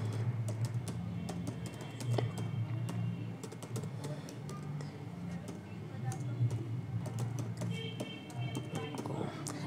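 A name being typed on a computer keyboard into a web subscription form: steady, close clicking keystrokes over a constant background hum, with some talking mixed in.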